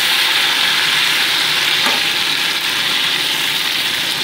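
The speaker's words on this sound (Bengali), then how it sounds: "সেকেন্ড ব্যাচের মাছগুলোকে আমি উল্টে পাল্টে ভেজে নিচ্ছি।" Tilapia pieces in a second batch sizzle steadily in hot mustard oil in a kadai as they are turned. A loud, even crackle fills the clip, with a brief scrape partway through.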